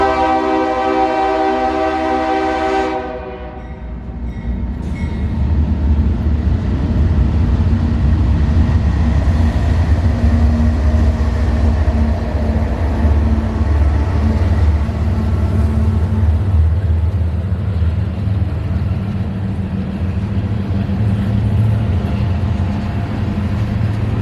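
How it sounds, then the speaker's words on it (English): A northbound freight train, manifest M544, rolls through downtown Cartersville, its horn sounding with steady harmonic blasts before giving way to a loud, continuous rumble and clatter of railcars passing close by. "our first train would be northbound Manifest M544 out of Rice Yard and Waycross up to Queensgate Yard in Cincinnati"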